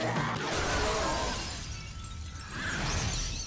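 Glass shatters loudly in a dramatic TV scene from a supernatural horror series, a dense crash that stays prominent for a few seconds alone over a background score.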